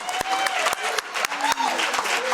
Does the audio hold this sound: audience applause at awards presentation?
yes